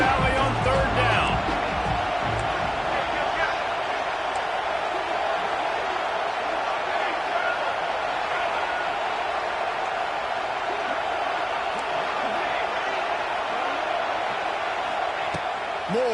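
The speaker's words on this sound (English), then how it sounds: "Here comes the noise from this big crowd in Happy Valley on 3rd down." A big college football stadium crowd in Happy Valley roars steadily on third down, a dense sustained wash of cheering that fills the whole stretch, with commentary faintly underneath.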